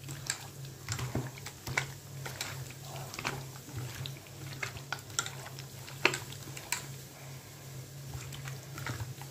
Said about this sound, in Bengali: এভারেস্টে চিকেন মশলা আমি দিলাম এর মধ্যে। এবার কষাবো এটাকে